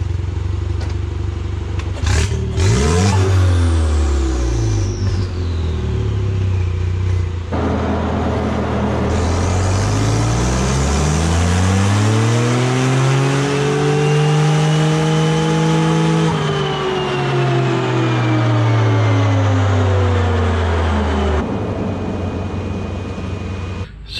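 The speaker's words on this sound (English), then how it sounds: "This thing basically does not want to rev out." A buggy engine converted to a stick shift revs on a dyno in a loud, continuous pull, its pitch climbing steadily, flattening at the top and then dropping away as it struggles to rev out.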